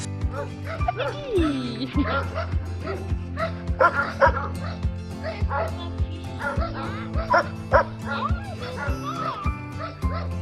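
An adopted female dog barks repeatedly and whimpers, loud and close, in a steady run of yips over faint voices of people and children nearby.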